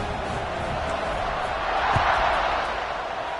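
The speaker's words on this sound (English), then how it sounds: "this crowd is buzzing after that last score" Stadium crowd in a Tennessee college football video game, a steady broad roar that swells slightly midway and holds at an even level throughout.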